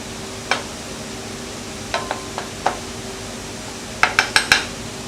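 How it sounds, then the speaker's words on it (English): Flour and butter being stirred in a pan while cooking into a roux: scattered metallic clinks and scrapes of the utensil against the pan, ending with a quick run of four sharp taps, over a quiet background. "it's essential that you keep stirring, otherwise the flour will singe and burn"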